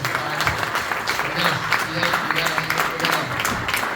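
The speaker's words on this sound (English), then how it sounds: "Come on, one more time, a big round of applause." An audience in a manor hall at a hometown hero honoring event breaks into applause, a dense patter of clapping that rises and falls, with a few voices and cheers mixed into the crowd noise.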